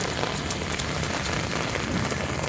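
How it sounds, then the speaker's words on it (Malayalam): Steady rain falls in a dense, even hiss with scattered drop patter on surfaces, continuous and fairly close throughout. "ഇതാ മഴേൻ്റെ അവസ്ഥ കണ്ടോളൂ"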